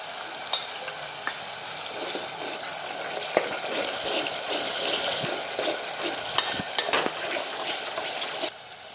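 Cumin and salt fry in a pan for a roasted brinjal curry, giving a steady close sizzle broken by light stirring scrapes and occasional taps of a spoon on the pan before the sound drops near the end.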